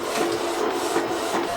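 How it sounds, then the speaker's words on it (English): A DTF printer prints a t-shirt transfer, producing a steady mechanical whir and scraping rasp with a faint hum and soft periodic swells as the head passes. "So now I'm sending my image to the DTF printer."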